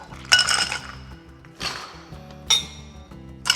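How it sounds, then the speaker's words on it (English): Ice cubes dropped into a cocktail mixing glass while making a Belfast Coffee, giving four separate bright clinking clatters spaced about a second apart, close and without talk. "Add ice to your mixing glass."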